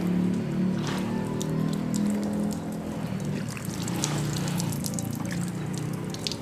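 Camphor water is poured from above over a body during ritual washing of the dead, a steady close splashing and trickling stream that runs continuously with droplets pattering throughout.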